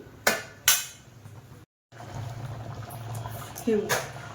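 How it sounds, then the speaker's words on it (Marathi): Shengole, a traditional horse gram curry, bubbling in a pot: a steady low simmer runs under a few sharp clinks of a utensil against the pot, then one brief gap before the boiling resumes. "आता याला उकळी काढून घेऊया चांगली."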